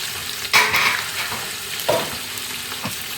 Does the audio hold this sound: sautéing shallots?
yes